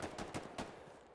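Faint gunfire in the World War II shooter game Hell Let Loose, four quick distant shots at uneven intervals, then fading quiet.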